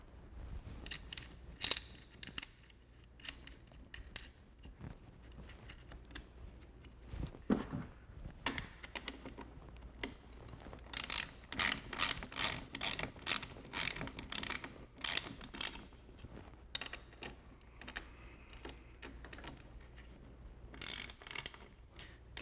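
Nuts are run down by hand onto the upper shock mount of a Tesla Model 3 during an Öhlins Road & Track suspension install, giving quiet, rapid ratcheting clicks in bursts with short pauses, fairly close.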